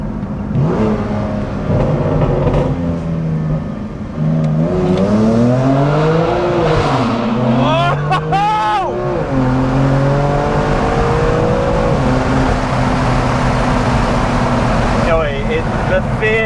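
BMW M2 Competition with DCT gearbox on a custom BM3 map accelerates hard, its loud revving engine climbing through several quick gear shifts with sweeping pitch, while people talk over it throughout.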